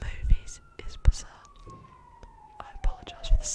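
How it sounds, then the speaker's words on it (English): A siren wails steadily in the distance on a snowy day, slowly falling in pitch, while someone whispers and breathes close by with soft clicks and taps. "I apologise for the siren."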